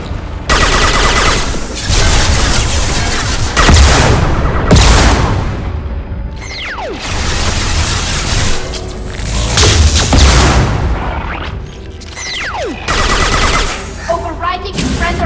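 Turret gunfire in Mass Effect 2 roars in long, loud bursts of rapid shots and booms, close and heavy, with brief lulls between volleys and game sounds mixed in.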